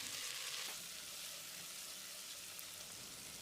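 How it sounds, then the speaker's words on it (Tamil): Chopped tomatoes and onions sauté in a pan for mushroom biryani, giving a steady, soft hiss and sizzle with a faint stir near the start, heard alone. "150 கிராம் அளவுக்கு நறுக்கின தக்காளியை மசிகிற அளவுக்கு வதக்கிடலாம்."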